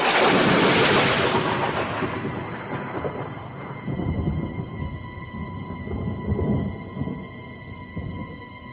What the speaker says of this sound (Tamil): ஒரு கடும் புயல் வீசியது